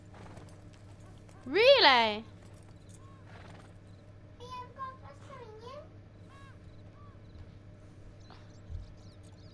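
A horse in Red Dead Redemption 2 lets out a loud whinny, followed by fainter horse calls and soft hoof sounds, with people chatting over the game.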